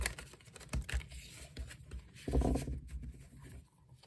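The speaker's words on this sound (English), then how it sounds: "First shuffle." Soft, quiet riffling and papery shuffling of tarot cards, a few flicks and a brief burst of rustling up close.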